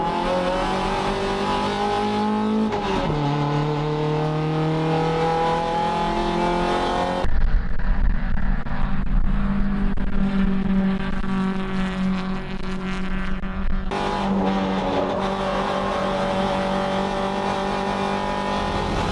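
Race cars roar through turn 6 of a circuit race, with high, steady engine notes shifting pitch as cars pass and a louder mixed rumble through the middle of the pass.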